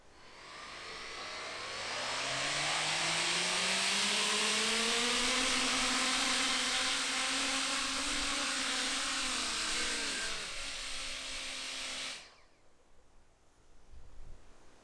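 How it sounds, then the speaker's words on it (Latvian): Coanda-effect drone motors whine up from a low pitch to a loud, rising roar at full power with airy rushing noise, holding steady for several seconds before cutting off abruptly. "Pirmais tests Coanda efekta dronam."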